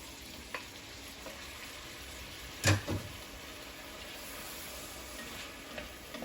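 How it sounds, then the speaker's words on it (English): Potatoes go into a pot of oyster stew over a faint, steady sizzle, with a couple of brief clattering thumps near the middle. "Next going in the pot is your potatoes"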